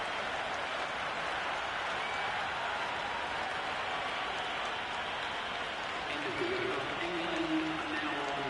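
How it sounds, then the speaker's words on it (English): Crowd cheering and applauding in the Cricket 26 video game at an Ashes Test match, a dense, steady wash of applause and crowd noise. Brief faint tonal calls come near the end. "It's evident and ever so audible that the crowd is at near bursting point with excitement at today's play."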